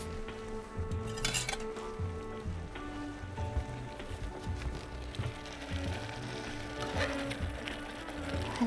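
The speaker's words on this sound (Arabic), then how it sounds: "هلا حنجيب الملقط ونقلب" Spaghetti with garlic and olive oil being tossed in a pan with tongs: steady light metallic clinks and scrapes over a faint sizzle, close and continuous, with no talking.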